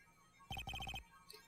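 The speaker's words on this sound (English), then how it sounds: "And what is this stupid-sounding ringtone?" A synthetic phone ringtone in Phoenix Wright: Justice For All plays a quick series of bright, evenly spaced beeping tones, loud and close, then stops, leaving quiet background.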